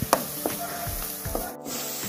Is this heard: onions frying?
yes